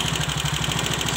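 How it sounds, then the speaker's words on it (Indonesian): A Viar three-wheeled motorcycle engine idles steadily at stationary speed, a low, even mechanical hum with a fast regular pulse, close and constant with no talking. "Setelah mesin menyala stasioner begini"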